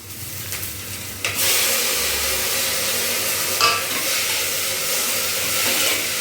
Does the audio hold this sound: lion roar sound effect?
no